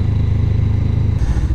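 Honda CB500X motorcycle riding through the tunnel at Goodwood, a steady, loud low engine drone with rhythmic pulsing that shifts slightly near the end.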